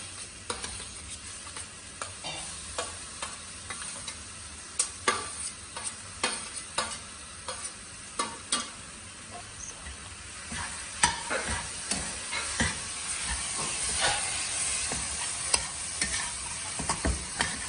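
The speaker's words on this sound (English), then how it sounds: "Now I'm going to add the chopped tomatoes." Four medium chopped tomatoes sizzle in a pan, stirred with repeated sharp scraping clicks over a soft, constant frying hiss, no talking.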